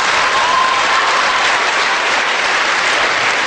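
An audience at a Hindi comic poetry recital in a college festival setting bursts into applause, a loud, dense, continuous clapping from a large crowd that fills the whole few seconds without pause.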